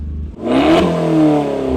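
An Abarth 500 with a 1.4-litre Garrett turbo engine rated at 165 horsepower revs hard once close by, a sharp rising snarl that holds and settles with a throaty burble.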